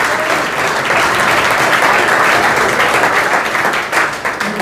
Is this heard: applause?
yes